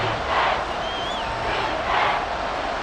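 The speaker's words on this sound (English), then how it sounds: "The Arrowhead crowd in full roar." A stadium crowd roars at Arrowhead in the football game Madden NFL 24, a broad, sustained wash of cheering that swells and fades twice, with a thin whistle rising briefly in the middle.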